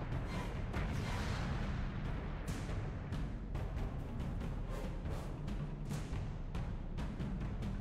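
Ship cannons fire repeatedly in the Alice: Madness Returns video game, with a dense string of sharp booms and blasts over a constant loud rumbling din, no speech.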